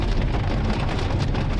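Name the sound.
rain falling during storm chase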